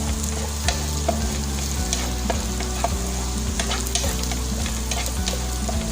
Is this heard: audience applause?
no